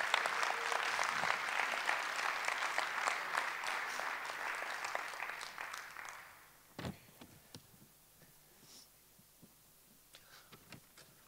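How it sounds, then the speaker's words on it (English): A conference audience at a keynote closing session applauds loudly for about six seconds, the clapping then thinning to scattered claps and light handling noises that trail off quietly. "So can you give a massive big round of applause?"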